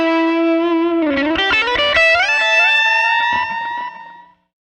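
Electric guitar through a delay patch on an Eventide H9, with an expression pedal pushing the repeats up: sustained distorted notes, then a flurry of echoing picked notes that bloom and trail off into silence.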